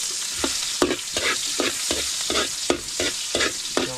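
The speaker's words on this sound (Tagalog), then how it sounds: "Ang daling pong maggisa." Onion and garlic sauté in a pan over a wood fire, a steady close sizzle broken by repeated spatula scrapes and stirs, about eight strokes in a regular rhythm, with no talking.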